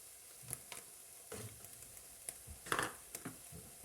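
Garlic dropped into a hot pan for chilli con carne, a quiet continuous sizzle with occasional spatula scrapes and taps, close but faint.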